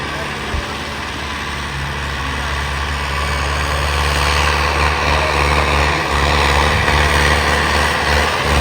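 A farm tractor engine runs steadily after a conversion from CRDI to an inline fuel pump, a loud low diesel drone with a constant idle hum that builds slightly in intensity, with voices talking over it.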